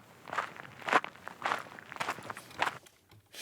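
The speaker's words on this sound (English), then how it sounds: "Also had like somebody who's like doing footsteps" Footsteps crunch through gravel as a sample in a house music track, a series of soft, evenly spaced steps at moderate distance.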